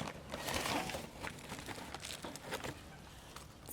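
Foil and plastic food packaging crinkles and rustles close by in irregular bursts while rubbish is sorted, quiet and scratchy with brief sharp crackles.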